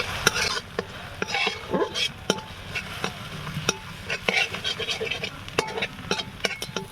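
Scrambled egg stirred and fried with a spatula in a pan for egg bhujia, a steady sizzle under repeated sharp scraping and tapping strokes, close and fairly loud, with no talking.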